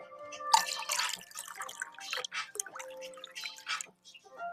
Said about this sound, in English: That's my water. My glass straw. I'm going to take a sip of water.